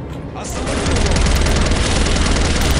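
Sustained gunfire in the old shooter Soldier of Fortune, a dense, loud, continuous roar of rapid shots that builds after a brief quieter start and holds steady to the end.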